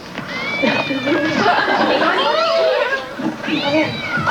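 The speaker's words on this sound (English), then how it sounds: "He's a male cat, domestic short hair." A male domestic shorthair cat meows and caterwauls in drawn-out, wavering cries, loud and close, with people talking over it.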